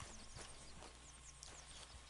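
Horse hooves clip-clop at a walking pace in Red Dead Redemption 2, faint and rhythmic, with soft game ambience and no talking.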